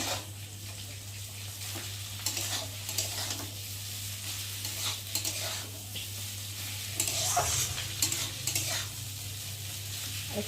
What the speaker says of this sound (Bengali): আর এবার আমি এই যে সেদ্ধ করে রাখা চাউমিনগুলোকে দিয়ে অল্প অল্প করে দেবো আর অল্প অল্প করে নেড়ে দেবো